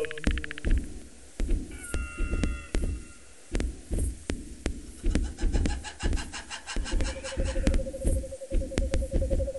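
Cats meow repeatedly in the video game Carnivores 2 with the Barney mod, their calls rising over a dense, rhythmic thumping like a heartbeat that pulses steadily throughout.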